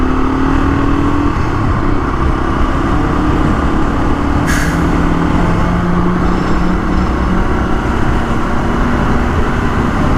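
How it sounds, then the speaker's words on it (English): A big truck passes in traffic while the listener rides a dual-sport motorcycle, a loud steady road and engine roar with a rising tonal whine and a brief sharp hiss near the middle, close and continuous. "That is a truck."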